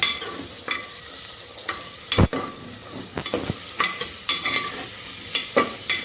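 Vegetables stir-frying in a pressure cooker for pulao, with a steady low sizzle broken by repeated sharp metallic scrapes and clanks of a spatula against the pot, one especially loud knock near the middle.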